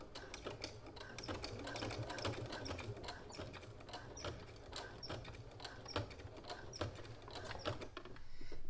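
A sewing machine stitches steadily through several thick fabric layers of a top's neckline, with rapid even needle clatter and faint mechanical whir, close and alone.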